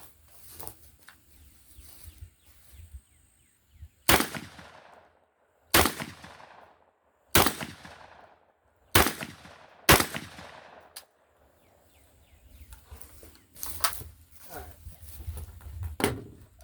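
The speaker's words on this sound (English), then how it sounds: "This gun's really fun to shoot though." Six sharp, loud gunshots from a heavy handgun at an outdoor shooting range, spaced a second or two apart with quieter rustling and movement between them, and a couple of fainter reports near the end.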